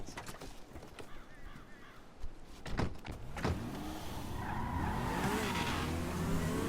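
Cars racing in Grand Theft Auto V, with sharp thumps and a skid early on, then rising engine roar and squealing tires building steadily louder as the vehicles speed off together.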